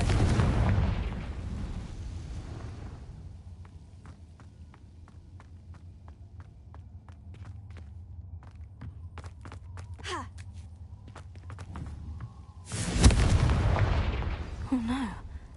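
Confringo blasting-spell explosions go off in Hogwarts Legacy, a heavy burst at the start and another near the end, with scattered sharp clicks and impacts in between.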